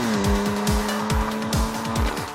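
A 2015 BMW M3 with a turbocharged inline six-cylinder engine revs hard and loud, running through a series of quick gear shifts with falling pitch sweeps, plus tire squeal and a sharp, aggressive exhaust note.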